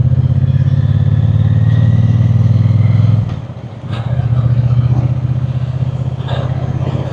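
Triumph T120 Bonneville motorcycle riding off, a loud, close, steady twin-cylinder throb that dips sharply midway, as with a gear change, then returns with some clatter.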